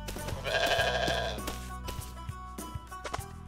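A single drawn-out sheep bleat rings out in the video game Ty the Tasmanian Tiger 4, followed by scattered game sound effects and footsteps-like taps.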